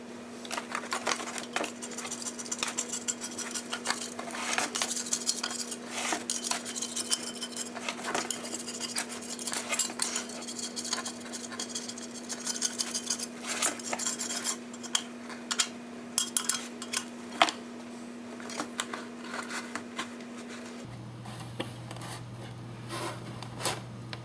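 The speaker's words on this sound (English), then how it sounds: "I'm going to scrape off a little bit more of the gasket that I have now" Putty knife scraping old RTV gasket material off a Dodge Durango front differential, a steady run of small dry scrapes and ticks, close and fairly quiet, with a constant low hum underneath.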